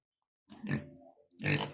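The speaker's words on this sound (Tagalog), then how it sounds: "Yan ang aming baboy" Domestic pig on a provincial farm grunting twice up close, a rough guttural grunt followed by a brief pause and a second louder grunt.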